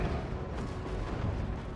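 Flame cannons firing in a Total War Warhammer battle, a dense, continuous roar of booming artillery and fiery blasts, steady and loud with no clear break.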